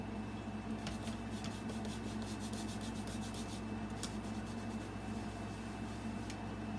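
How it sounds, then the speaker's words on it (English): Soft, rapid rubbing strokes as a rubber stamp is scrubbed clean on a stamp-cleaning pad, a close quiet scratchy texture in short bursts with no talking. "Spray and clean and dry. So you scrub on one side,"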